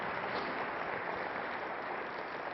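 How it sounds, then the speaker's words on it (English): Steady applause from a seated audience at a real estate investor expo, a continuous dense wash of clapping filling the short stretch without pause or voices on top. "So give him a big round of applause"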